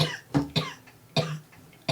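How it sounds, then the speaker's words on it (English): A person coughs repeatedly at a tabletop role-playing game session, four or five sharp, harsh coughs in an uneven rhythm, close and moderately loud with no talk over them. "Stop coughing."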